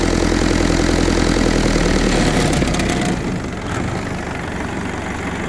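Kubota diesel engine swapped into a Willys Jeep idles steadily at close range, a dense low rumble that drops slightly in pitch and loudness partway through as the revs are lowered, with no voices.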